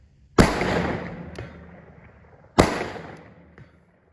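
Two loud rifle shots fired from a field shooting position outdoors, each a sharp blast about two seconds apart followed by a long decaying echo across open ground.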